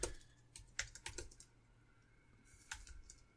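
Quiet bursts of keyboard typing, a few quick clusters of clicks separated by pauses, close but soft.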